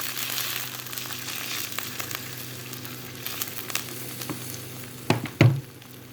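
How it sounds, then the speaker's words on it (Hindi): Onions frying in a pan while browning for mutton chops, a steady close sizzle running throughout, with a couple of louder clattering stirs near the end and no talking. "प्याज हमारे फ्राई हो चुके हैं"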